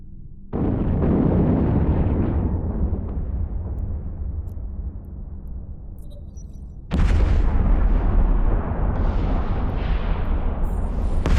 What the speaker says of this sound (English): Impressive explosions, huh?